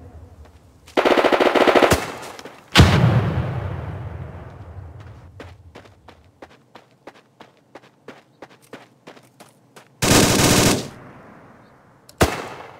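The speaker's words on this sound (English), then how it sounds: "The M249 air-cooled, gas-operated, fully automatic firearm is used for squad support." M249 automatic rifle firing in the video game America's Army 3: loud sustained bursts of automatic fire, followed by a series of rhythmic footstep-like thuds and a final single report.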